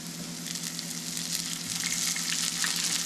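Broccoli and other vegetables stir-frying in olive oil over high heat, a steady dense sizzle that builds slightly, close and loud, with no talking.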